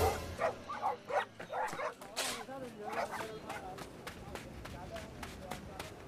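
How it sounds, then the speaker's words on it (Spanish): A dog barks and yips in quick bursts as it chases someone, loudest early on and fading into lighter yelps, under a narrating voice. "el perro de Doña Ofelia se percató de su presencia y salió detrás de él"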